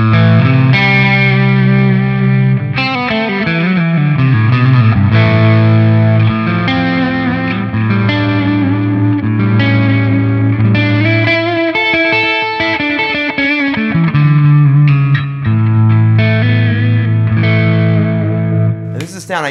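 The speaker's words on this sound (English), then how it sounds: "this is my like gritty sort of slightly broken up sound" A Line 6 Helix preset gives an electric guitar a gritty, slightly broken-up tone. Chords and riffs ring out continuously for about twenty seconds, loud and upfront, with light effects and no voices.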